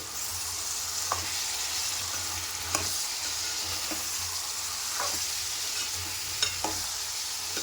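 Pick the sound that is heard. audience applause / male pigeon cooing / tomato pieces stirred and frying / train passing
tomato pieces stirred and frying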